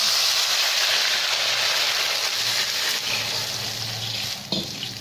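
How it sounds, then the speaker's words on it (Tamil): Water boils in a pot on the stove for wheat rava kesari made with palm jaggery, giving off a steady, close, hissing bubbling. It continues without pause, and a small clink sounds near the end; nobody talks. "இப்போ தண்ணி நல்லா கொதிச்சிடுச்சு."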